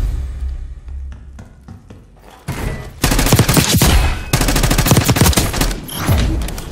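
Gunfire in the Call of Duty Black Ops 6 video game: a few scattered shots, then from midway a loud, dense barrage of overlapping rapid shots that keeps firing almost without pause to the end.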